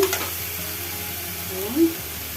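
Ginger-garlic paste sizzles in hot oil in a home kitchen while being stirred for a hilsa fish curry, a steady moderate frying hiss with a brief louder burst near the end.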